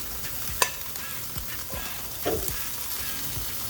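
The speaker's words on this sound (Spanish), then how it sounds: "las vamos a colocar dentro de la cesta. Como escuchan, está bien caliente" Frozen French fries sizzling as they are placed into a preheated, hot air fryer basket, a steady broadband crackle with a few clinks and taps of the fries going in, fairly quiet and without talk.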